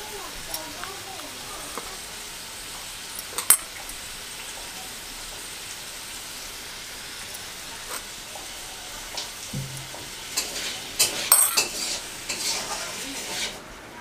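Onion and garlic paste frying in oil in a home kitchen, giving a soft, steady sizzle with occasional utensil clinks and stirring. It builds a little louder near the end.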